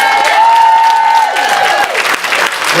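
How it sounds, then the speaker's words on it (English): Wedding guests applaud together in a dense, loud burst of clapping that holds steady and then thins slightly toward the end, with no talking over it. "have a nice round of applause for our new bride and groom"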